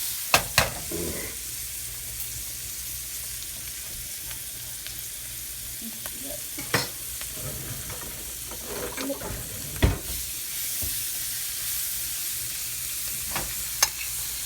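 Butter sizzling in a hot pan while chicken chardonnay is cooked, a steady bright frying hiss with occasional sharp clicks and stirring knocks, fairly close and alone without talk.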